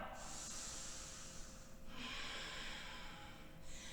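A deep, steady inhale during a yoga flow in warrior 1 pose, a continuous airy hiss of breath lasting about two seconds, then a second breath following after a short break, close and fairly quiet.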